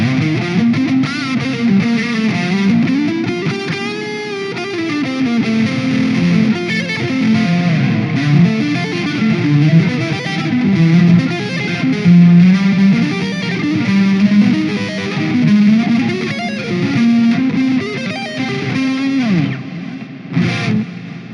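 Electric guitar playing sustained, distorted chords drenched in a wide, washy reverb that blurs the notes together, steady and loud throughout.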